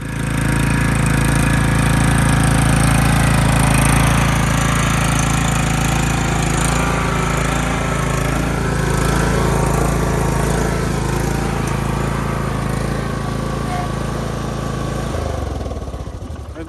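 Lawn mower engine running nearby at a building site, a loud and steady drone that holds constant, then drops off near the end.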